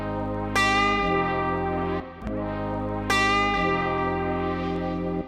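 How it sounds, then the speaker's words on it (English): A vintage-style music sample run through distortion, chorus, delay and reverb plays loud and steady, with two sustained tonal phrases and bright struck attacks echoing into a washy tail, and no voices. "some distortion to it, chorus, delay, and reverb."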